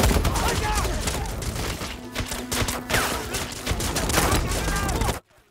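Dense, rapid bursts of gunfire crackle continuously at high volume for several seconds, then cut off abruptly into near silence.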